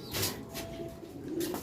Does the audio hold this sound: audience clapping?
no